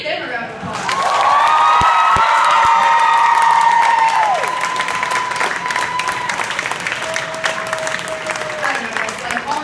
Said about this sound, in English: Like give them a round of applause.